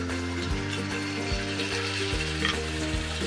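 Ginger and garlic paste fries in a pan for Bengali beef rezala, giving a continuous close sizzle with light stirring, under soft background music.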